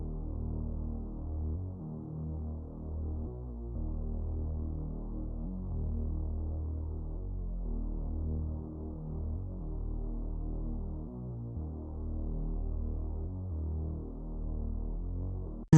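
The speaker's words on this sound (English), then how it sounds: "In context, this is what the bass sounds like." Gritty synth bass line from FL Studio with semitone slides, a steady low rumbling tone that throbs continuously and evenly at moderate level for the whole stretch, with no voices.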